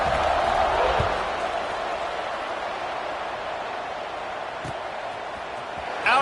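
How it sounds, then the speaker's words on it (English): A college football stadium crowd at Arkansas versus Mizzou buzzes steadily after a score, a broad continuous roar with a brief louder swell near the end. "this crowd is buzzing after that last score"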